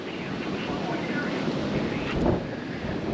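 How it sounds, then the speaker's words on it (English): Gusty winter-storm wind blows across a Go Fast Camper truck bed camper on a resort lot, a loud, steady roar and buffeting with one stronger gust swelling midway. "The wind's just gonna go right off the top now."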